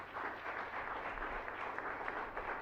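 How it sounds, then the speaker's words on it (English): Steady round of applause from the audience at a city council meeting honouring a local student swimmer, a dense continuous patter of clapping held at an even level throughout. "let's give her a round of applause"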